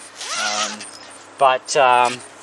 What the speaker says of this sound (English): Just zip everything up.